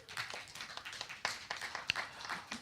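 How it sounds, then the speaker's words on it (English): Congregation at a Sunday celebration service giving themselves a round of applause, a continuous patter of many hands clapping at moderate distance, with a few sharper claps standing out. "Give yourselves a round of applause."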